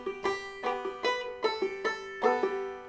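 Electric guitar notes ring on one after another without choking or punctuation, about seven plucked notes in a steady rhythm, each left to sustain and blur into the next. The guitar is close and moderately quiet and plays alone.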